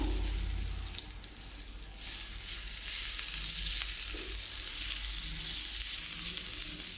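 Butter sizzling in a hot pan on the stove, a steady crackling hiss that carries on without a break, with a faint scrape partway through.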